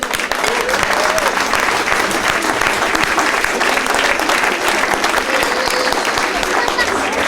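An audience at the Semaine Internationale du Chablais 2008 claps steadily and enthusiastically, dense applause filling the room without a break, with a few voices mixed in.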